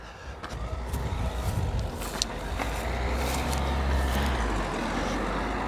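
Cars pass close by on a busy rural B road lined with hedges, a continuous rumbling wash of tyre and engine noise that swells louder in the second half.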